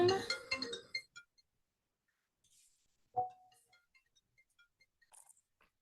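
A mobile phone ringtone chimes in a quick burst of bright tones at the start, followed by scattered faint clicks and taps in an otherwise quiet room.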